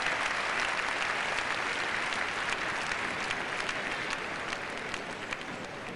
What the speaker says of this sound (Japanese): 今度は大歓声。